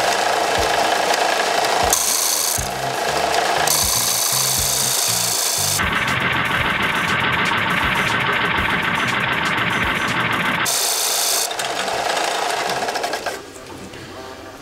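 A Central Machinery 4x36-inch belt and disc sander grinds 2x1-inch soft pine, a loud continuous motor whine with rasping abrasion that changes pitch as pressure shifts, running alone before winding down at the end.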